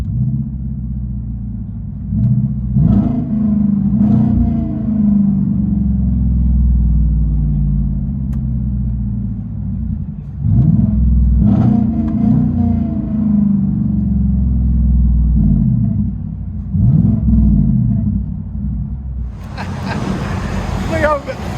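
A 2018 Chevy Silverado with a 5.3L V8 and true dual straight-pipe exhaust rumbles deep and loud, rising in several revs and swells, with people talking over it.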